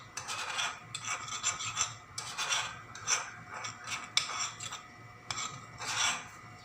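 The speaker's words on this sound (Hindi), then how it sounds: "4 से 5 चम्मच दूध मिलाकर इसको मिक्स करके रख दूंगी।" A spoon scrapes and rubs rhythmically against a bowl while custard powder is stirred into a few spoonfuls of milk, repeated close strokes every second or so, with no talking.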